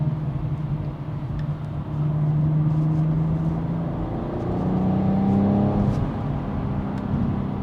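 BMW M440i engine accelerating, a steady, rising engine drone with climbing pitch through the gears, heard from inside the cabin without talk.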